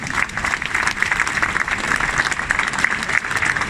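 Audience applause at a mosaic unveiling, steady dense clapping from a crowd that carries on at an even level for the whole stretch with no talking over it.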